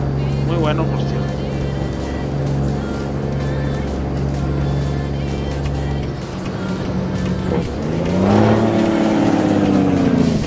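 Road traffic in American Truck Simulator, a steady engine drone with passing vehicles and a rising rev near the end, while someone talks over it.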